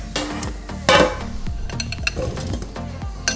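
Eggplant pieces go into an air fryer basket with clattering metal and utensil clinks, a loud knock near the start followed by lighter scattered taps and handling sounds, no talking.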